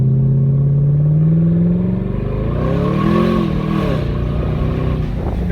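Turbocharged Chevy S10 engine revs and accelerates up close, a steady loud drone climbing and wavering in pitch through a couple of pulls, with no talk over it.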